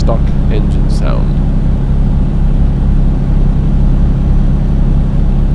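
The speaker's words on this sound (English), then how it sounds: "nicer sounding stock engine sound." The stock truck engine in Euro Truck Simulator 2 drones steadily at low pitch throughout, a constant heavy hum with someone talking over it.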